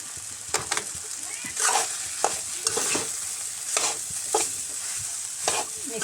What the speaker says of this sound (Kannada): ಈಗ ನೆಕ್ಸ್ಟ್ ಅನ್ನ ಹಾಕ್ಲತ್ತೀನಿ ನೋಡ್ರಿ. ಹೀಗೆಲ್ಲ ಮಿಕ್ಸ್ ಮಾಡ್ಕೊಳ್ತೀನಿ ನಾನು.